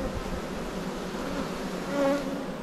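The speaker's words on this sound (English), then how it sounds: "I've got the smoke wafting over this hive. That's why they're still a little bit noisy." Honey bees buzz loudly in a smoked hive that has a heavy small hive beetle infestation, a dense, close, continuous hum swelling briefly near the end, with no talking.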